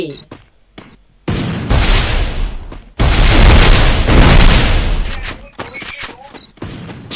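Grenade explosions in the Free Fire battle royale game come as loud, heavy booms, with two long blasts rumbling for a couple of seconds each and shorter bursts around them, all close and dominant.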